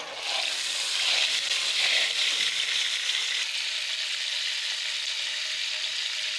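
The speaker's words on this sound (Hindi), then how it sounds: "घी को गर्म कर लिया है। अब मैं इसमें लहसुन का पेस्ट डालूँगी।" Garlic paste sizzles and fries in hot ghee for a garlic-and-mustard-greens (sarson ka saag) dish, a steady loud hiss that swells early and then settles, with no talking.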